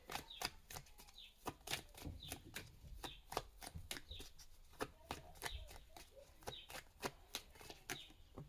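Tarot cards being shuffled close by in a repeated series of crisp riffling snaps and flutters, with no talk.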